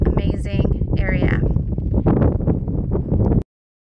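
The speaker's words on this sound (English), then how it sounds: "It's a little windy out there" Heavy wind buffets a microphone in loud, rumbling gusts on a farm in Aguila, Arizona, with a voice partly buried beneath the noise before it cuts off abruptly.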